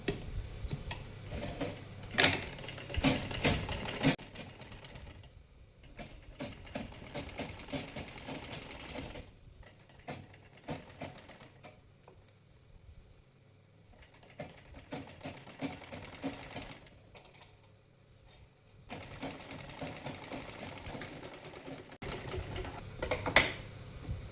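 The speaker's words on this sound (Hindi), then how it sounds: "यहाँ से सिलना स्टार्ट करेंगे।" A sewing machine stitches blouse fabric in rapid mechanical bursts, running loudly for a few seconds at a time, pausing briefly, then starting again; no one talks over it.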